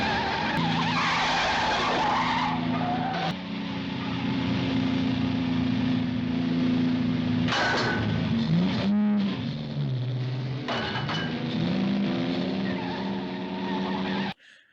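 A car chase from the 1962 film Dr. No: engines rev and tires skid and squeal repeatedly, with a rising-and-falling pass midway and the sound cutting off abruptly at the end.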